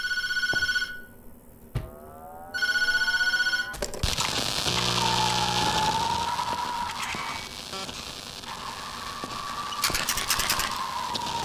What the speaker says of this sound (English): Maybe we should try answering the phone.